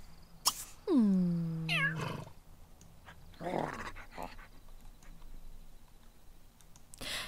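A pet cat in The Sims 3 being petted and cuddled gives a clear, close meow with a falling pitch, followed by a shorter chirping call and a few soft rustling sounds against a quiet background. No one speaks.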